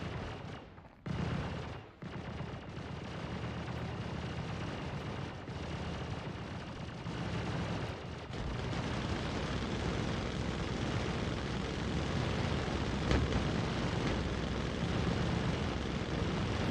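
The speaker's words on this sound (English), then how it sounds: "Listen to those ballistics just light up, man." Gunfire and explosions in the video game Star Citizen form a dense, continuous roar of ballistic fire and blasts, with a few brief dips early on before it builds to a sustained, loud barrage without talk.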